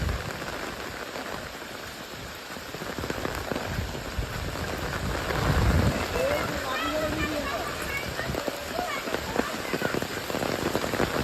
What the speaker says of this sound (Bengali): এই হলো বৃষ্টির অবস্থা,